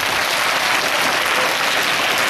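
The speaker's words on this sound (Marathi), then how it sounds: "टाळ्या वाजवा सगळे." A crowd of parents and teachers at an outdoor Independence Day flag-hoisting ceremony applauds together in a loud, dense, continuous burst of clapping.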